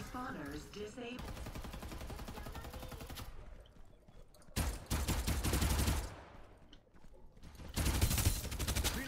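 Bursts of rapid White Dwarf SMG fire from the video game Farlight 84 rattle loudly in long sustained strings, broken by short pauses, with the last burst near the end.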